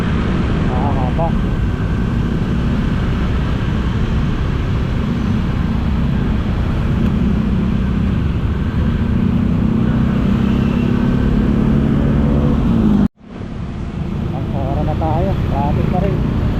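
Dense road traffic with buses and vehicles crawling along a road near an overpass, a loud continuous low rumble of engines heard from close by, with a brief break and people chatting now and then.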